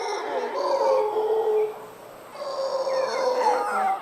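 A monkey howling loudly in a Costa Rican forest, a long wavering moan that pauses and then resumes, resonant and carrying across the surroundings.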